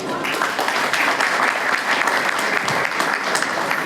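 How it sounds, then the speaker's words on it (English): A crowd at a Diwali celebration gives elected officials a loud, close round of applause, dense overlapping clapping that holds steady throughout with no voices over it. "a big round of applause for our elected officials here"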